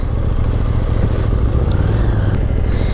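A 2021 KTM Duke 890 motorcycle engine drones steadily and close while riding, a dense low rumble mixed with wind buffeting, with no voices.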